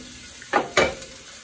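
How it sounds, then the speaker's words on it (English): A spoon pushes apples through sauerkraut and smoked sausage in a hot frying pan, giving two short, close stirring swishes over a low steady sizzle. "Okay, there's my apples. Get these all stirred down."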